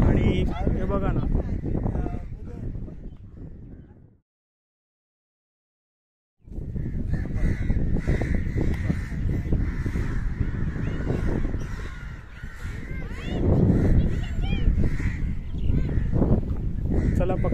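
Crows caw repeatedly at the Ashapuri Mata Mandir temple in Edvan, Palghar district, with the cawing running alongside and under ongoing talk. There is a brief silent gap early on.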